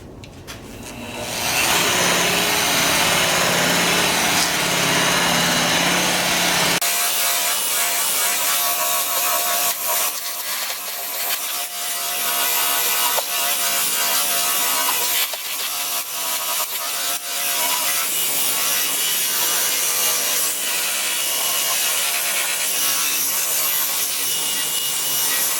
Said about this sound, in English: now we start the buffing.